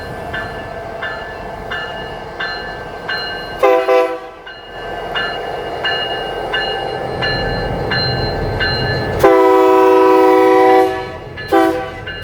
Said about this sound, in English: As you can see, we got a train coming here.